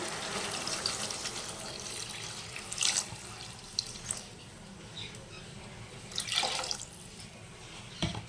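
Water poured into a pan of cooking snake gourd, a quiet running splash that swells in a few short bursts against a soft background hiss, with no talking.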